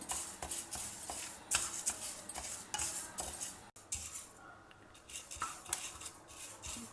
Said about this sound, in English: First we will dry roast this Horsegram or Kollu over a medium flame